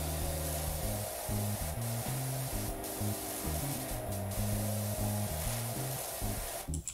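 A pressure washer in PowerWash Simulator blasts a steady, hissing spray across a patio table, loud and continuous, with a game music tone humming underneath and no talking.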